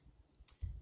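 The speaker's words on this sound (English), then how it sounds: "I'm typing something wrong." A couple of faint, quick clicks from a computer keyboard being typed on, soft and close against low background hum, with no talking.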